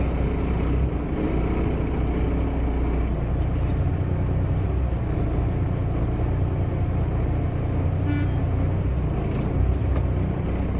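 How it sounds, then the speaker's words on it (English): A truck with its tug and trailer rolls in reverse while the trailer brake is tested, a steady, loud engine drone heard from inside the cab with no talking. "Now we're going to reverse it so we can test our trailer brake."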